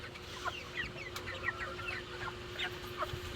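Several farm-raised chickens cluck and chatter close by in a steady, overlapping stream over a low background hum.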